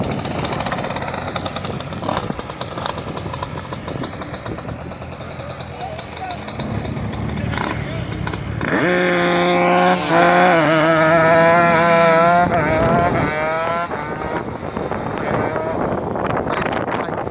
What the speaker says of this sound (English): Now this go-kart should be interesting.